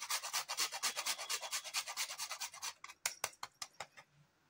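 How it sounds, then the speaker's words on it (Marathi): Nutmeg is rasped against a fine kitchen grater over cardamom powder: rapid, even scraping strokes for about three seconds, then slower, spaced strokes tapering off, close up and alone without speech. "आपण अर्धा चमचा वेलची पूड घालूया आणि जायफळ थोडंसं किसूया याच्यावर"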